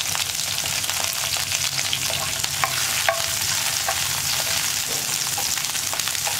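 Sliced onions and curry leaves sautéing in oil in a pan produce a loud, continuous dense sizzle and crackle, with occasional spatula stirs scraping through it, close and unbroken throughout.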